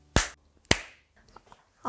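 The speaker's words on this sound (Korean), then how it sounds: "앞에서 박수 한 번만" Two sharp, loud claps ring out about half a second apart in an otherwise quiet room at a talk event, followed by near silence and a voice starting at the very end.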